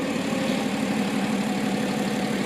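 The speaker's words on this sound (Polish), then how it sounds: "silnik pracuje równo" A BMW 330 car engine idles steadily with an even, low rumble, continuous and close, with no talking.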